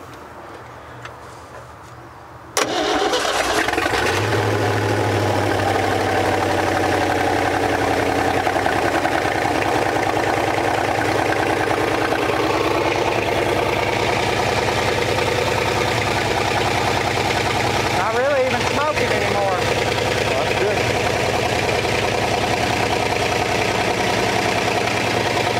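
A 1957 Chevy Viking truck engine, long abandoned, cranks and catches, then settles into a loud, steady, rough idle that holds close by.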